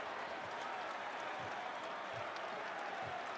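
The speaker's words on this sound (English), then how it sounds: "Even the Knicks are applauding." An NBA game crowd at a Knicks game applauds, a broad distant wash of clapping and crowd noise that holds steady, faint under a commentator's voice.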